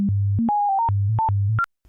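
A picture file encoded as audio plays as a sequence of pure electronic tones stepping abruptly between low and high pitches, each held briefly, clean and loud, ending in near silence with a faint low hum.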